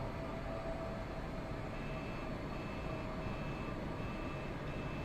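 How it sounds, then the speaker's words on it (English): Repeated electronic beeping alert sounds in an F-86 jet cockpit in Microsoft Flight Simulator, evenly spaced tones over a steady, loud engine drone. "I'm hearing beeping noises"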